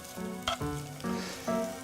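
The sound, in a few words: onions frying in sesame oil in a pan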